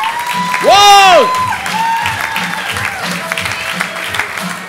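A comedy club audience applauds and cheers as a comedian is brought on, with a brief whooping shout near the start and steady clapping under a host's amplified voice calling out.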